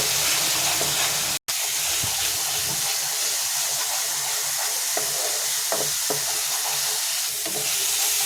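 Onions and egg stir-fry in a pan with a steady, loud sizzle, broken by scraping stirs and one brief dropout.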